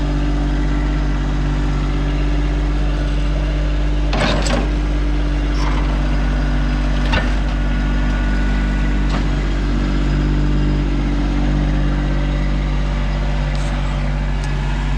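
A tractor fitted with forks works to lift an old air tank off a truck bed, its engine running as a steady low drone throughout, with a few sharp clanks of metal standing out along the way.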